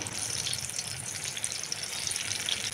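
Boiled bitter gourds dropped into hot oil for deep frying give a steady, dense hiss and bubbling sizzle that holds evenly throughout, with no talk.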